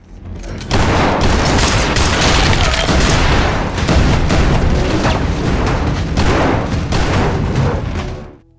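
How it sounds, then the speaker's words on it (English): Dense firefight from the Fallout TV series, with rapid overlapping gunshots and booming blasts forming a loud continuous roar for about eight seconds before cutting off. "A firefight breaks out across the room."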